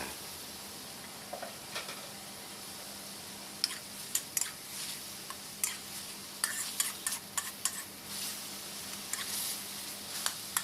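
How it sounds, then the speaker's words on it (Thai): Fish balls being stir-fried in sauce in a hot pan, a soft steady sizzle with scattered clicks and scrapes of a utensil growing busier toward the end, faint and close. "ผัดไปพอประมาณครับ ให้น้ำซอสเข้าเนื้อของลูกชิ้นปลา"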